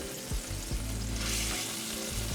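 Wahoo seared in a hot pan, a continuous close sizzle of frying with a few soft scrapes and turns of the fish, no voices.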